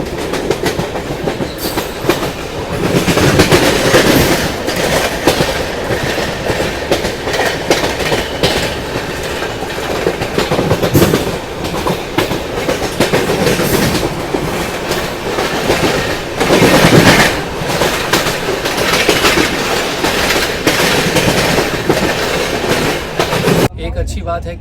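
The New Delhi-Howrah Poorva Express rolls along the rails out of New Delhi station, heard from inside with continuous loud rumble and rhythmic clickety-clack of the wheels over the joints, with faint voices in the background.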